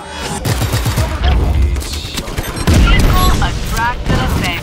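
Loud, continuous bursts of gunfire and heavy booming explosions in the video game Just Cause 3, layered over each other, dense and close, with no pauses throughout.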